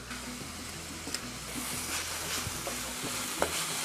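Vegetables and two cloves of garlic sizzling and being stirred in a pan, a steady close frying hiss with scattered scraping clicks and no talk.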